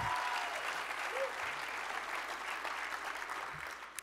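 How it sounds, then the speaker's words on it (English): Applause from a gala audience at a cancer-center benefit dinner forms a soft, distant wash of clapping that fades slightly toward the end. "I don't know why you're clapping"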